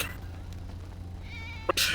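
A sick pet cat gives a short meow near the end, close and fairly loud, over a steady low hum.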